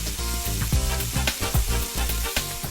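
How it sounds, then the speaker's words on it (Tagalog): Garlic, mung beans and grated papaya sautéing in hot oil, loud continuous sizzle up close with rhythmic scraping strokes of a spatula stirring, no voices. "saka siya maggigisa ng bawang at munggo"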